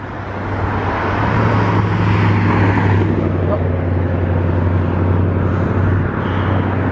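Steady road traffic with cars rolling past on a busy street, taxis among them, a continuous loud low rumble and tire noise throughout with no clear breaks between vehicles.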